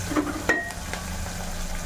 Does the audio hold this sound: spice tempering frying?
yes